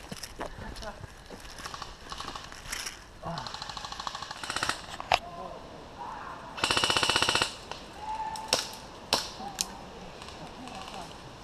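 Airsoft guns snap off rapid bursts and single shots during an outdoor skirmish in Milton Keynes. Players shout and talk over the firing.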